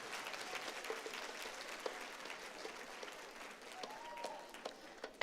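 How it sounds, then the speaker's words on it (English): An audience at a graduation ceremony applauds for graduates' parents and families, steady dense clapping from a large crowd throughout, with occasional louder claps and faint cheers. "please give a round of applause for your parents, your families, your support system today"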